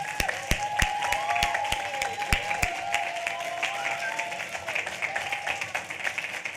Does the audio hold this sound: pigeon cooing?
no